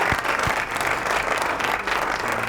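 Loud, dense studio audience applause on a Ramzan quiz show, sustained clapping from a crowd for the full stretch without a break.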